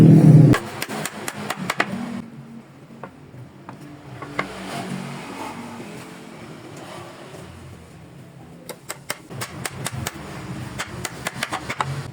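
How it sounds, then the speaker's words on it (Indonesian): A nail gun fires into wooden parts of a small school study chair, sharp percussive clacks arriving in scattered single shots and quick bursts over a quiet workshop background. "Untuk bagian yang ini saya pakai paku tembak."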